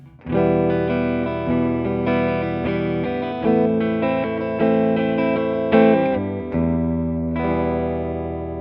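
Clean amplified tone from a big 16-inch hollow body electric guitar, ringing chords strummed in a steady rhythm with full, sustained, slightly acoustic resonance, loud and close with no talking.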